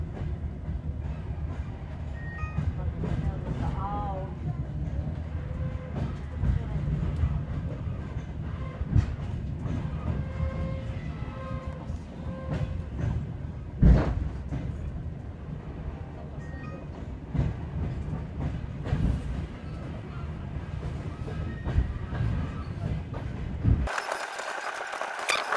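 Riding aboard the Turan Express between Almaty stations, a continuous loud rumble of wheels on rail with faint rhythmic clacks and occasional squeaks, carrying on steadily before cutting off near the end.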